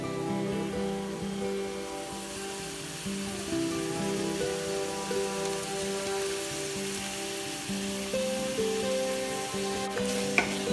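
Garlic, tomato and spices frying in a beef karahi, giving a steady, even sizzle with light stirring throughout, close and continuous with no talking.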